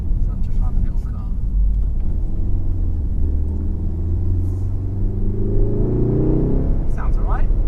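A VW Golf R engine under way, a steady low rumble and drone that rises in pitch over several seconds as the car accelerates, with a voice speaking briefly over it near the end.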